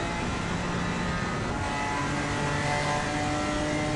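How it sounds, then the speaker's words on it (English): A BMW GT4 racing car engine in the video game Assetto Corsa Competizione at Silverstone drones continuously at high revs, a steady buzzing hum with slight changes in pitch and no pauses. "This BMW is fast as hell in the straights. It does sound like a lawnmower though."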